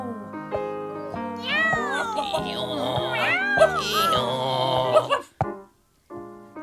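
A voice imitates a cat meowing in a children's story, several drawn-out, pitch-bending meows with other sung voices and music layered around them, ending abruptly.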